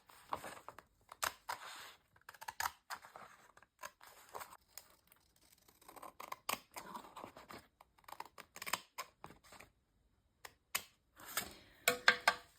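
Scissors snip through a paper pack cover in close, quiet bursts of short crisp cuts, mixed with light paper rustling and pauses, ending with a few louder snips.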